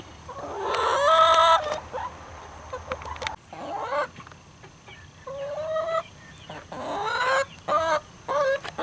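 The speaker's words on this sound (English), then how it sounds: "Now the chickens are waiting to be fed. You can hear them." Backyard chickens waiting to be fed cluck and squawk in repeated bursts, loud and close, some calls overlapping, with short quieter gaps between outbursts.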